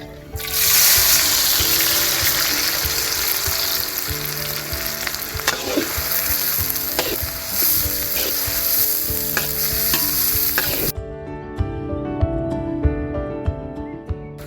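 Finely chopped onions frying in oil for a village-style squid pepper fry, a loud crackling sizzle with repeated stirring scrapes that cuts off abruptly, leaving quieter clinks and a faint tonal hum.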